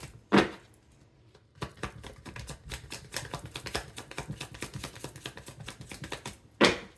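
Tarot cards are shuffled by hand in a close, crisp run of rapid riffling clicks and flutters lasting several seconds, bracketed by sharper single snaps of the deck at the start and end.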